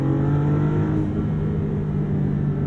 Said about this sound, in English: In the upper part of the rev range, it has much more grit. It does sound pretty exotic for a V6.